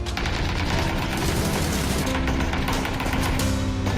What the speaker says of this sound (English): The Barrel M762 Assault Rifle, coming soon to PUBG.